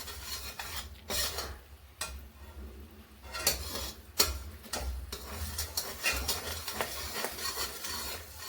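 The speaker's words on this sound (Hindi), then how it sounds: "इस तरह से हम चलाते रहेंगे, साथ में गुड़ को हम अच्छे से पकने देंगे।" Jaggery being stirred as it cooks in a pan, with uneven scraping and rubbing strokes of a spoon against the metal and a faint sizzle underneath, moderately loud.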